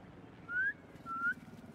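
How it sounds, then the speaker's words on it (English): Two short rising whistles call pigeons in the Spider-Man 2 video game, clear against a faint, low background. "Try a whistle."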